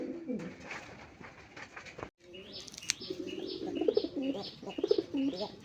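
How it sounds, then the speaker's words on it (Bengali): A pair of Indian kagoji pigeons coo repeatedly in a steady, rhythmic series, close and moderately loud, with faint chirps and background rustling beneath. "এখানে একজোড়া কাগজি ইন্ডিয়ান কাগজি কবুতর"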